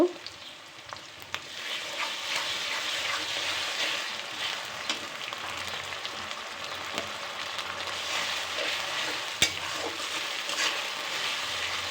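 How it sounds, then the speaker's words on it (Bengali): Chopped onion and ginger-garlic paste fry in a pan with a steady, close sizzle and crackle that lasts throughout, broken by occasional sharp clicks of stirring. "আদা রসুনটা একটু ভাজা ভাজা করে নিব"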